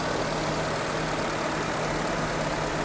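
An older car's engine idles steadily in a repair shop, giving a continuous low rumble with a faint hum that holds at an even level throughout, with no speech over it.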